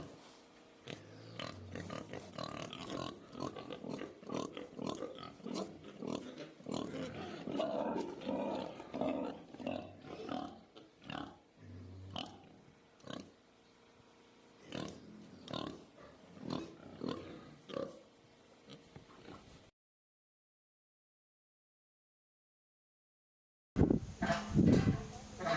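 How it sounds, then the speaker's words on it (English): Pigs at a farm piggery used for livestock breeding give grunts and squeals in irregular bursts at moderate distance, mixed with people talking and other farm noise, then a brief silence before a loud closing snippet. "Pig breeding is going well, and new piggeries are being built at the farm."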